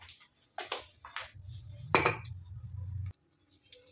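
A spoon stirs flaxseed in hot water in a metal pot, making a few close clinks and scrapes against the pot, then a short steady bubbling rumble before a sudden stop, with no talking.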